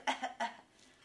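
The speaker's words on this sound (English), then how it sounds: "How about a cough?" Two short, sharp coughs in quick succession, fairly close and alone, followed by quiet.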